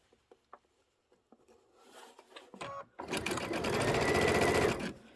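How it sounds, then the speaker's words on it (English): Sewing machine stitching a quilt panel: light taps and handling first, then the motor whirs up into a steady, close, rapid run of stitching that stops near the end. "And I just kind of sew on the left side of this."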